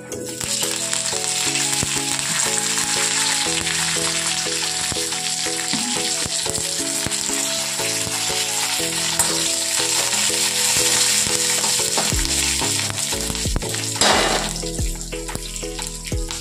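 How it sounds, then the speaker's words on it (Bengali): Dried red chilli, mustard seeds and cumin seeds tempering in a spoonful of hot oil for a coconut peanut chutney, giving a steady close sizzle and crackle throughout, under continuous background music. "এবার একটা শুকনো লঙ্কা ফোড়ন দিচ্ছি, আর দিচ্ছি এতে 1/2 চামচি সর্ষে"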